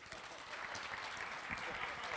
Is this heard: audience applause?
yes